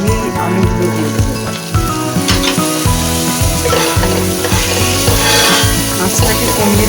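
Potatoes frying in oil with onion and ground spices such as chili, turmeric, cumin and coriander give a loud, continuous sizzle with stirring scrapes, close up and without talk.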